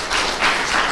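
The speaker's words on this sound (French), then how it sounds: "Alors, on peut l'applaudir." Brief burst of audience applause at a final award ceremony, a short wash of clapping rising and swelling over under a second.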